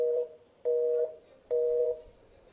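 Repeating telephone line tone after a call is hung up: three steady beeps of about half a second each, separated by short gaps, clear and fairly close with no talk.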